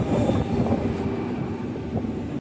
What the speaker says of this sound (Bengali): ট্রেনে উঠতেই ট্রেন আমাদের ছেড়ে দিল